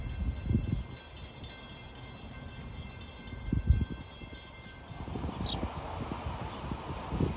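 Train 2094 from New York to Ronkonkoma creeps through a station reconstruction work area at New Hyde Park, its low rumble broken by slow, rhythmic wheel clunks over the rails, moderately near.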